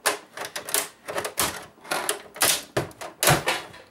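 Plastic and metal parts being torn and snapped off an Xbox 360 console for scrap, a rapid series of close, sharp clacks and cracks in an uneven rhythm, about a dozen in four seconds.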